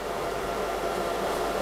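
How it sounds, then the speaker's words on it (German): A hair dryer runs on an EcoFlow Delta portable power station, giving a steady, even airy whoosh at moderate level with no pauses and no talking. "Und ich habe nämlich hier schon einen Föhn."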